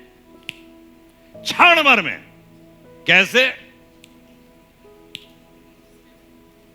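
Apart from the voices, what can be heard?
finger snapping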